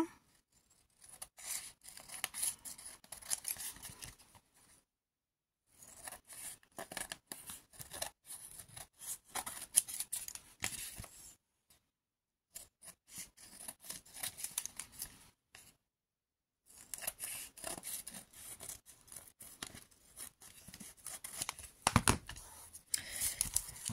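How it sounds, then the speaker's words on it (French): Scissors cut away excess scrapbooking paper in repeated crisp snips and paper rustles, close and fairly quiet, in several bursts separated by short silences. "De la même façon, on vient couper ce qui dépasse."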